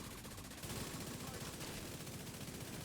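Rapid automatic gunfire in The Division 2 as a player shoots an enemy, a dense loud crackle of shots running steadily through the whole stretch over game noise.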